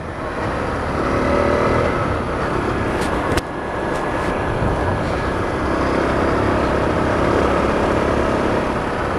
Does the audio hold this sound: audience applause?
no